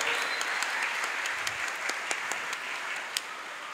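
Soft, somewhat distant crowd applause for the flag-raising troop at an outdoor Indonesian Independence Day ceremony, a steady wash of clapping dotted with a few sharper individual claps.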